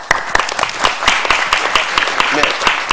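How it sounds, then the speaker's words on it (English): A seminar audience at a deal-making panel gives a brief round of applause, close, loud clapping with individual claps audible through the burst, and a voice speaking underneath. "May I give a little round of applause"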